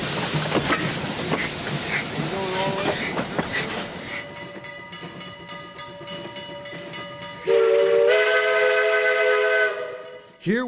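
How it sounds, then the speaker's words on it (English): Steam locomotives Little River 1 and Viscose 6 haul a train at a 2014 Michigan steam train expo. A steady, rumbling roll of cars gives way to a loud, sustained, multi-tone steam whistle that blows long and close near the end. "Here we see the Little River 1 and Viscose 6 as it leads the train throughout the afternoon."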